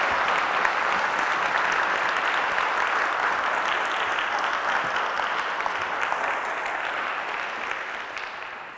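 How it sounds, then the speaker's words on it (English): A large audience gives sustained rousing applause for the Unique Feet performance at a rare disease festival, a dense continuous roar of clapping that fades slightly toward the end. "I would like you lot to give them another big rousing applause"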